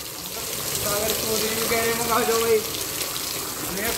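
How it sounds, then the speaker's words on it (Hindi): Heavy rain pouring down steadily, a continuous rushing wash of falling water close by, with a person talking over it intermittently. "बारिश आ रही है पूरी तेज़ देखो कितना पानी गिर रहा"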